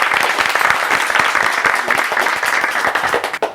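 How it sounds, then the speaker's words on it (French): A studio audience at a television talk show applauds a guest, with dense, loud, steady clapping that fades in the last moments. "On va applaudir Adjoa"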